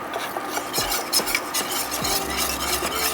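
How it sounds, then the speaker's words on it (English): A whisk stirs enchilada sauce in a pan, a busy scraping and swishing with soft sizzle underneath, repeated strokes close by and no talking. "I will get my whisk also, because you don't want your enchiladas to get lumpy"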